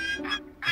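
Cartoon duck in a children's T-Rex dinosaur ranch show, two short nasal quacks in quick succession, close and clear.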